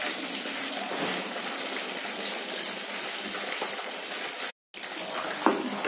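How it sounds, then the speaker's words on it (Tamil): Boiling water for chicken dum biryani is strained off before soaked seeraga samba rice goes in, giving a steady loud rushing gush that runs for several seconds, breaks off briefly, then resumes. "இப்போ நம்ம தண்ணியை வடிகட்டினா அரிசியை நம்ம போட்டுடலாம்."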